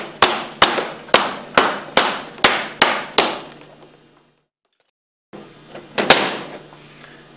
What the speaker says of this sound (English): we'll use a rubber hammer to remove the discharge manifold